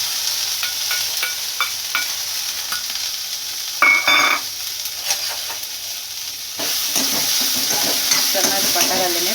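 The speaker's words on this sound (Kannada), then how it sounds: "ಚೆನ್ನಾಗಿ ಬಟರಲ್ಲೇ ಫ್ರೈ ಮಾಡ್ಕೊಳ್ಳಿ." Sweet corn frying in butter in a pan sizzles steadily up close, with utensil taps and scraping, a brief louder clatter, then a fuller, louder sizzle as stirring resumes, no talk.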